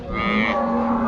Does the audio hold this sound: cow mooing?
yes